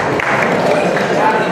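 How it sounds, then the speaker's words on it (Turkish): Guests at an Ahiska Turkish wedding clap and cheer in a dense, continuous burst of applause that fills the room loudly, with crowd voices blended into the noise. "bir alkış gelecek size ben biliyorum"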